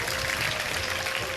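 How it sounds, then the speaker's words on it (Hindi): An audience claps on a live Iftar television show, giving a continuous, even patter of applause at moderate volume for just over a second. "तालियां बजा दीजिए"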